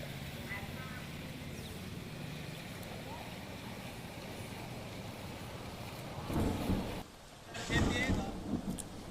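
Heavy monsoon rain pours down in Prabhas Patan, Gir Somnath, a dense continuous hiss that swells into louder gusting bursts near the end.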